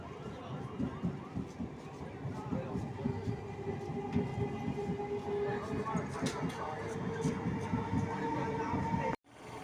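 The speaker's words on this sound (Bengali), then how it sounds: "এই যে ট্রেন চলে যাচ্ছে দেখতে" A train rolls past a level crossing, a continuous rhythmic rumble with clattering wheels, heard from waiting traffic at the gate amid crowd murmur and some talk.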